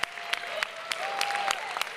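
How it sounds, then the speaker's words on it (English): An audience claps for a guest at a TEDx-style event, scattered sharp hand claps ringing out at intervals over a thin continuous background of applause, moderately quiet. "Clap it up for M."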